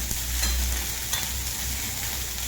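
Brinjal frying in a little oil in a covered pan, giving a steady, close, low sizzle that holds evenly throughout with a couple of faint crackles.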